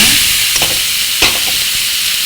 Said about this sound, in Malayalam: കടുക് പൊട്ടി വരുമ്പോഴത്തേക്ക്